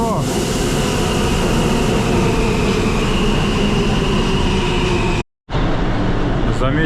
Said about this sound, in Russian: Мы снова в метро.